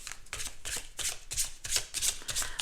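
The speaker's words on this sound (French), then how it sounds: "On mélange le jeu." A deck of tarot cards being shuffled by hand, with repeated crisp riffling bursts, each lasting a fraction of a second, close and fairly loud, with no talking.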